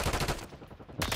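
Sniper gunshot in a video game, a sharp loud crack followed by a brief fading tail, then another shot beginning at the end.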